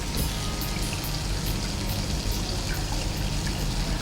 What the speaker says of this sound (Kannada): 2 ಕಪ್ ನೀರು ಹಾಕಿ ಎಷ್ಟು ಸಾಕು